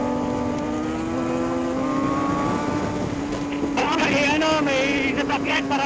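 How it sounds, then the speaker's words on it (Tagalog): On a winding mountain road of the Kaybiang–Batangas–Tagaytay loop, a vehicle approaches with a steady, droning engine rising over the constant noise of the ride; a voice comes in near the end. "May sasakyan parating ah."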